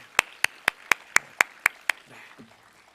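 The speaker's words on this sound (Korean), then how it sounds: "우리 크게 박수 한번 하겠습니다" A church congregation claps in unison during a Sunday service, eight sharp, evenly spaced claps in a steady rhythm, followed by a brief low murmur.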